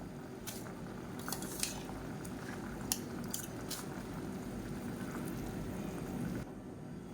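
Soaked rice is added to boiling water in a pressure cooker: soft, faint wet slides and occasional light metallic clinks over a steady background hiss of boiling.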